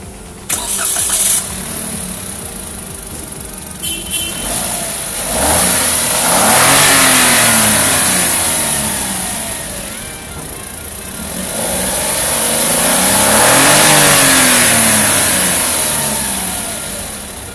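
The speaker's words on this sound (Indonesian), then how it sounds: "kita pengen denger dulu suara mesinnya, foot on the clutch" A Daihatsu Rocky 1200cc car engine cranks and catches, then revs up twice in long rising-and-falling surges, loud and close with a high whine above.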